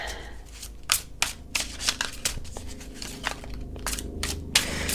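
Playing cards are shuffled by hand, a series of quick riffling bursts and soft slaps at an uneven rhythm, close and clear.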